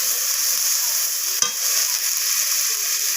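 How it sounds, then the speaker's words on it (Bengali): Spices with garlic paste are stirred in a hot pan for a rohu fish curry, a bright continuous sizzle with one sharp scrape of the spoon midway, close and alone without voices. "সমস্ত কিছু মশলা আবারও নাড়িয়ে চাড়িয়ে নিচ্ছি আমি"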